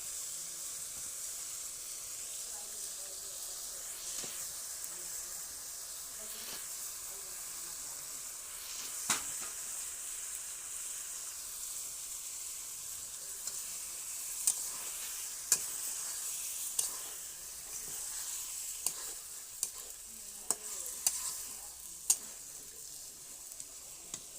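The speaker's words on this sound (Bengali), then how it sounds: "এই যে মাংস কষাচ্ছি" Meat sautés with spices in a pan, a quiet continuous sizzle and hiss with occasional soft stirring scrapes and small taps, no one talking.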